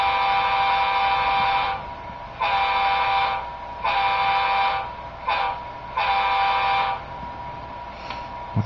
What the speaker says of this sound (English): As I speed the engine up, the engine sound picks up.